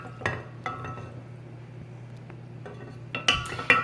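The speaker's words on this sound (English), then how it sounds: "Give it a little stir." A utensil stirs water kefir with kefir grains in a glass container, a few light clinks and taps spaced apart over a low hum, then a quick cluster of brighter chimes near the end, close and quiet.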